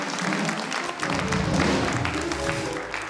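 Studio audience on a Czech TV talk show bursts into sustained, fairly loud applause, a dense wash of clapping hands that holds steady for about three seconds with a slight swell in the middle.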